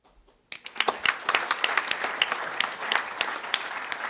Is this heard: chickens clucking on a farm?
no